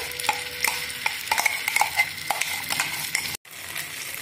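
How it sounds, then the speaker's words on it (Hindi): A cashew, onion, garlic and ginger paste sizzles and crackles in hot ghee over low heat, with steady frying noise and a spoon scraping and stirring the pan at intervals, close by. "अब गैस सिम कर देंगे और ये काजू का पेस्ट डाल देंगे"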